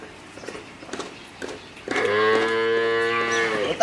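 A high-yielding dairy cow giving about 24 litres of milk lets out a single long, loud moo close by, after a stretch of quiet farmyard background.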